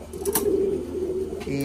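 A white-winged pigeon near its nest coos close by in a low, steady, throaty call, with a few faint clicks and no talk.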